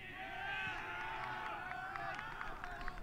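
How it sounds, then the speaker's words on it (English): Men's college soccer crowd noise from Loras facing Wartburg, with a steady wash of cheering and voices from the bench, carrying on loud and continuous across an outdoor field. "That Loras bench is cheering."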